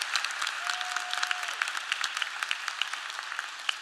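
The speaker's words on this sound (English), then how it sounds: "So could you please give him a round of applause for our appreciation" Sustained applause from a commencement ceremony audience for a retiring dean, steady dense clapping throughout without pause, moderately distant in a large hall.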